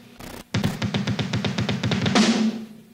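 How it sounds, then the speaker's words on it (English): A four-stroke ruff is played on double bass drums, a fast even run of punchy low kicks under cymbal wash, ending in a crash, loud and close. "And then I just applied it and learned to do it with the bass drums."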